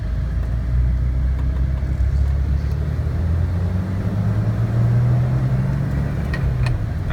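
A 2006 Jeep Wrangler LJ with a 6-speed manual drives along, its engine a steady, loud low drone from inside the cabin, with small rattles on top.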